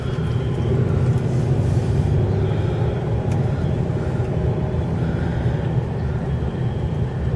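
A car rolls slowly down a residential street lined with autumn trees, its steady low engine and road rumble continuing unbroken at an even level throughout, with no voices.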